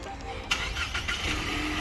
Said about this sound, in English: I'm gonna start the car here